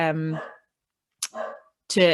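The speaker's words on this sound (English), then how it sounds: "that's just my dog barking" A pet dog barks close by in a home, three sharp separate barks with short silent gaps between them, loud and clear and not masked by talk.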